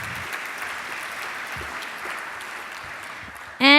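Steady applause from a conference audience at a mental health event, an even wash of clapping for about three and a half seconds before a voice cuts in at the end.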